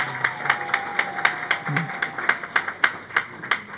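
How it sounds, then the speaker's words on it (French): A church congregation claps along in steady, evenly spaced beats, a rhythmic round of applause at a communion service with faint voices underneath. "Applaudis donc pour toi-même."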